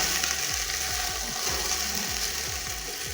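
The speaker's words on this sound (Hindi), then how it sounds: "बिल्कुल हल्की आंच पे आपने फ्राई करना है प्याज को" Chopped green onions fry gently in hot oil over low heat, giving a soft, continuous sizzle with light crackles throughout.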